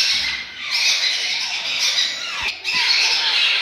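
A violet ringneck parrot chick squawks at a bird market, making loud, continuous harsh calls with only a brief break midway.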